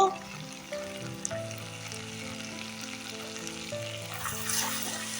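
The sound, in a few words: spices being fried in a pan for crab curry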